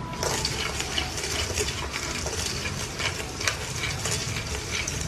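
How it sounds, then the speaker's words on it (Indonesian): Garlic peanuts being stirred after frying, with dense scraping and rattling of nuts in the pan over a soft oily sizzle, close and continuous with no talk. "Tambahkan saja garamnya. Lalu diaduk."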